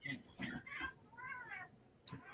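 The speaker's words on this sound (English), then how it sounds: "Cat fight." Cats meow and yowl in a brief fight inside the open-world western game Red Dead Redemption, several drawn-out, rising calls close by, with a quieter voice murmuring in the background.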